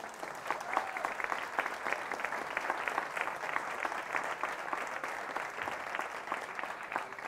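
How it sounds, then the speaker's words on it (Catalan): An audience at a political gathering in Girona claps steadily together, a soft, somewhat distant patter of many hands that carries on evenly throughout. "Felicitats, Maria José, i un aplaudiment."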